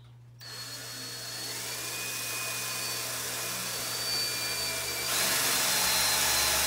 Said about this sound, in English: and then I drill a hole